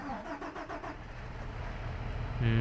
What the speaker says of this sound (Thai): สตาร์ทเครื่องนะ ฟังเสียงสามสองหนึ่ง